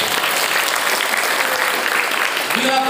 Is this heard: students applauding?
yes